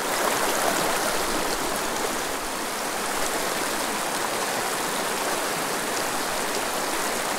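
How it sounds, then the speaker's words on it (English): Steady, full rush of a small mountain brook trout stream running over rocks, close and continuous with no breaks and no voices. "What a gem, of a stream."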